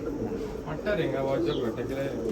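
A Lal China racing pigeon coos softly in a pigeon loft, its low throaty calls partly under someone talking nearby.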